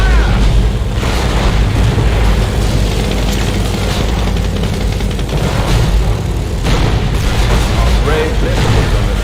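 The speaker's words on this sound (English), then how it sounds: "With this ability, Henschel aircraft will fly by the target location, targeting all enemies within their flight path" Henschel aircraft strafing run in the WWII strategy game Company of Heroes, dense rumbling booms and explosive bursts with a deep engine roar, loud and continuous throughout.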